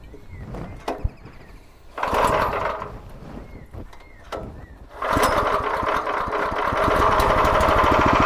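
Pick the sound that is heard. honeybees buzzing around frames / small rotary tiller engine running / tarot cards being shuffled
small rotary tiller engine running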